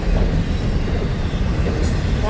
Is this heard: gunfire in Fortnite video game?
no